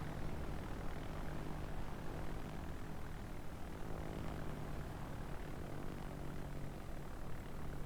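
Aircraft engines drone steadily overhead in the World of Warships naval combat game, a continuous propeller-plane hum at moderate level with no talk, during a carrier operation with a Graf Zeppelin.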